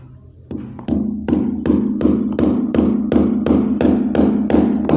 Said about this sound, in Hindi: दो क्लिप दीवार पे खाली दीवार पे हम ऐसे ठोक लेंगे